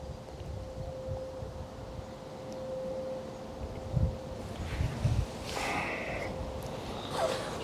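Steady wind gusts buffet the microphone beside a fishing lake on a warm day, a low continuous rumble with a few louder puffs and faint rustling, no talking.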